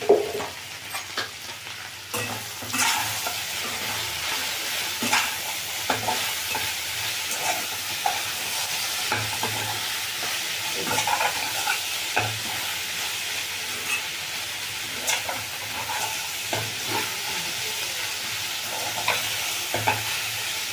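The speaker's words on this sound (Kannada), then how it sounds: "ಈಗ ಇದು ಬೇಯಲಿ, ತಿರುಗಿಸ್ತಾ ಇರಬೇಕು." Okra fries in a pan with curry leaves, green chilies and onion, giving a steady close sizzle broken by repeated scraping and clattering stirs, with no talk.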